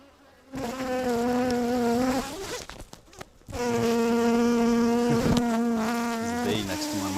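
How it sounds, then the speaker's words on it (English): A bee buzzes right against the microphone during a beehive brood inspection: a loud, close, droning hum that breaks off for about a second in the middle, then returns just as strong. "There's a bee next to my microphone."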